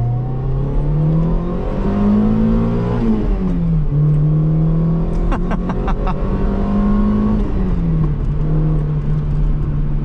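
Toyota Sera with a 1.5 liter, 108 horsepower engine heard from inside while driving, a loud steady engine drone that rises with acceleration and drops at each gear change, with a few faint clicks partway through.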